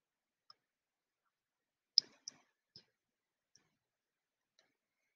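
Computer mouse clicks while setting up a Nearpod add-on in Google software, a few sharp isolated clicks spaced apart in a quiet room, with a quick cluster of three near the middle.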